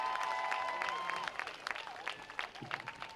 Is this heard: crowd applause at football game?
yes